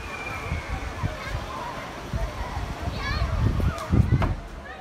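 A water bomb bursts with sloshing splashes and spattering water, loud and close, amid excited voices and laughter as people talk over the commotion.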